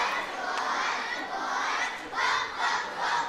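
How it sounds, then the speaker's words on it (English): Young cheerleaders, kindergarten to third grade, cheer for the Gobblers at a school wrestling meet: a chorus of high children's voices chanting in rhythmic swells, a little distant in a large echoing gym. "good to see those girls here cheering on the Gobblers tonight"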